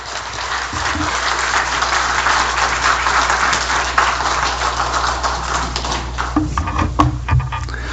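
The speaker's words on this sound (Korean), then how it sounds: "박수로 환영하도록 하겠습니다" A church congregation at a Korean worship service applauds loudly to welcome a preacher, producing a sustained roar of clapping. The applause thins into scattered claps and room noise in the final seconds.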